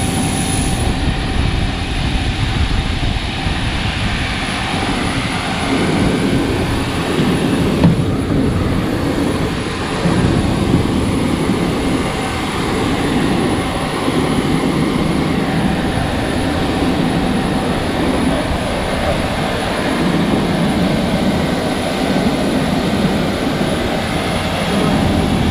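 Avelo airliner jet engines roaring loud and steady nearby on the ground, with a constant high whine over broad rumbling noise and no talk.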